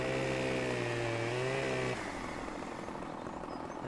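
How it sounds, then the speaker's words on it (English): A Husqvarna chainsaw in Farming Simulator 17 runs with a steady, loud engine drone, then drops abruptly to a lower, rougher idle partway through. Nobody speaks over it. "That's a good sound of chainsaw right there"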